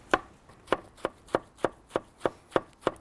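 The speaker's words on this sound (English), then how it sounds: "and I'm just gonna chop it." Sharp knife chopping rolled herbs on a chopping board for salsa verde, about nine crisp, evenly spaced strikes at a brisk, regular rhythm, close up with no talking.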